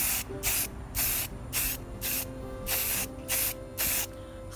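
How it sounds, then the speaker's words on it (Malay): Aerosol spray paint from a hardware-store can is applied to an engine stand in repeated short bursts, about seven hissing sprays of roughly half a second each, separated by brief pauses, close and steady. "spray layang ni kita just layang uh, bagi dia rata uh, biar semua kena"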